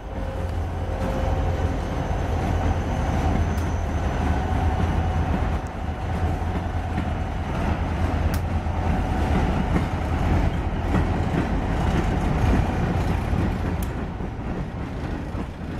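A freight train pulls up and rumbles steadily nearby in Batavia, New York, with continuous low-pitched clatter and hiss, rolling along without pause for the whole stretch.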